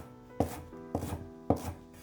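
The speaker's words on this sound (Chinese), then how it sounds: "下面准备半截大葱，切成葱花" A knife chops half a stalk of green onion on a cutting board, three crisp close strikes spaced about half a second apart, each followed by a short rub, with no talk.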